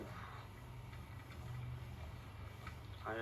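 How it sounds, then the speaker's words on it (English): A car engine idles steadily with a low exhaust rumble, fairly close, with a brief voice near the end. "I heard that exhaust."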